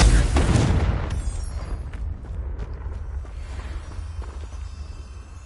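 A Confringo fire spell bursts in Hogwarts Legacy, a loud close boom at the start that decays into a lingering low rumble and faint crackling debris.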